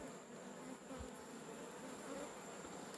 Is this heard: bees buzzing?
yes